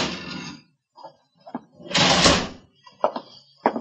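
A desk drawer slides open in a police office with a rough, woody scrape and a few short knocks and thumps. The sounds are close and moderately loud, with no talking over them.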